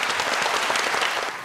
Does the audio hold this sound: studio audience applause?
yes